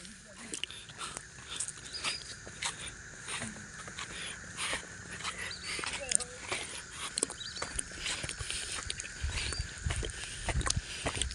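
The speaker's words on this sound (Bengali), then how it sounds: "এই যে ঝিঝি পোকার ডাক" Crickets chirp at night around a resort in the Dooars, forming a steady high-pitched drone throughout, with scattered clicks and soft background voices.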